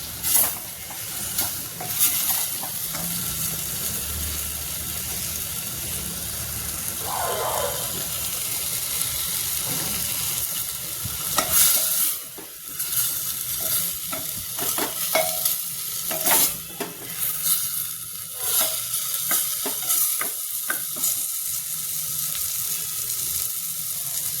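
Radish sabzi (muli curry) stir-fries in a pan over a high gas flame, a steady close sizzle with repeated scraping and stirring of a spatula against the pan running throughout.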